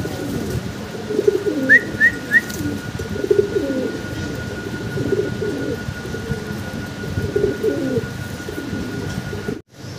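A male Magpie Danish pigeon cooing in low, throaty, repeated pulses close by, with a few brief higher chirps and steady background noise.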